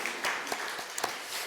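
A church congregation claps together in a short burst of applause, dense and fairly even with a few sharper claps standing out, heard from across the hall.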